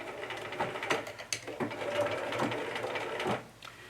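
A domestic sewing machine stitches a seam on a Laura Ashley bag sewn from a McCall's pattern, a rapid, steady mechanical chatter close by that stops abruptly near the end.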